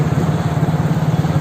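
Motorcycle engine idling steadily at close range with a low, even throb, the bike ready to set off for a Holi ride in Jorhat, running alone without talk.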